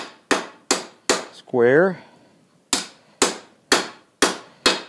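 A hammer strikes steel while forging a slitting chisel at an anvil, sharp ringing blows in a regular rhythm, four then a pause, then five more. A brief drawn-out voice sound falls in the gap and a word is spoken.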